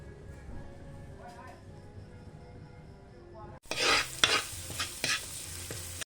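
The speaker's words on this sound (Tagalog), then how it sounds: "Igisa natin yung unang mga tangkay guys." Kangkong and alugbati stems are sautéed in a hot pan, starting abruptly with a loud sizzle and crackling stirring scrapes after a quieter stretch of faint low background.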